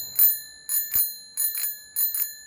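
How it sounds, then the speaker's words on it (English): A manual bell on an electric cargo bike rings crisply and loudly, sounding in quick pairs of bright metallic dings that repeat several times with short ringing decays. "I decide to use a manual bell"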